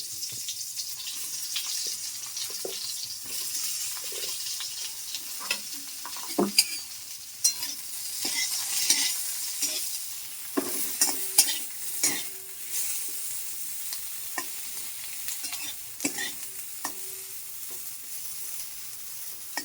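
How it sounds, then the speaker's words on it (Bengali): Eggplant pieces coated in salt and turmeric fry in a little oil over low heat, a steady close sizzle broken by repeated scraping and stirring clatter from a utensil in the pan. "নুন হলুদ মেখে বেগুনগুলোকে একটু ভেজে নেব, ভেজে তুলে নেব বেগুনগুলোকে।"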